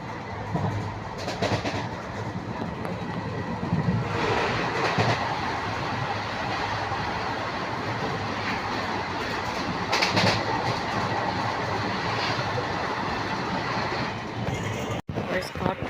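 The Jolarpettai–Chennai Central Yelagiri Express runs steadily with a continuous rumble and rhythmic clickety-clack of wheels on rail joints, heard from inside the coach, with someone talking over it and a sharp knock near the end.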